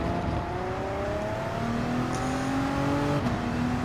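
A 2011 Audi R18 TDI race car's diesel engine in Gran Turismo 7, a loud steady drone climbing in pitch through the gears with brief shift breaks.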